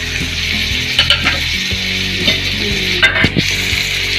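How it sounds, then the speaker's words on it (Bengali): Chopped garlic and grated ginger sizzle loudly in hot oil in a pan, a steady close crackle broken by a few stirring scrapes and clinks. "আদা রসুনটাকে একটুখানি তেলটার মধ্যে ফ্রাই করে নেবে"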